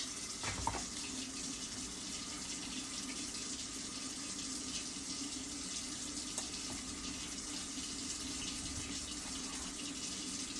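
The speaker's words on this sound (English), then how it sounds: "I'm gonna put a little water on the side." Tap water pours steadily into a kitchen sink or container while making Ghanaian fufu, a continuous faint rushing stream with a small splash near the start and no talk.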